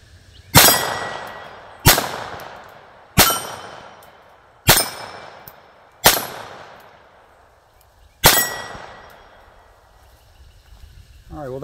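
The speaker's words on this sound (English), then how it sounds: "I'm going to see if I can't do a better job of getting shots on steel." Six sharp metallic clangs from .22 rounds of a Ruger 22/45 Lite pistol striking steel targets, spaced about a second or two apart, each ringing briefly and decaying before the next, with no talk.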